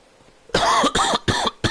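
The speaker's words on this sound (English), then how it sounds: "You have to excuse the coughing here." Four harsh, close coughs come in quick succession, each a loud rough burst separated by short gaps, with no talking.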